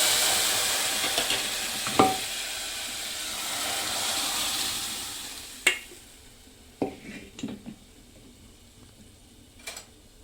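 Toor dal goes into a hot, golden tempering in a pot, giving a loud sizzle and hiss that slowly fades, followed by several sharp clinks of a spoon as the dal is stirred.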